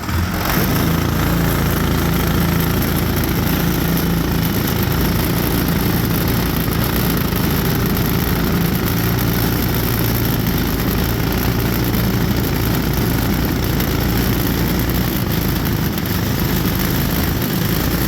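A small motor vehicle with cheap Chinese parts runs continuously, its loud, droning exhaust staying steady and close throughout with no pauses or voices.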